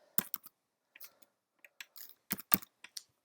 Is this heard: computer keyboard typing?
yes